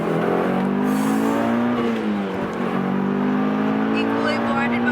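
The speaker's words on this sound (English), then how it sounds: "that's my favorite part is the downpipe because I mean it sounds good" A Mitsubishi Evo 9 with an aftermarket downpipe, its engine and exhaust droning loudly and steadily under acceleration, pitch rising and dipping briefly before climbing again, close and continuous.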